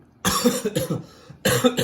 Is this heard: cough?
yes